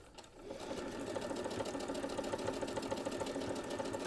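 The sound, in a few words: sewing machine stitching a quilt block seam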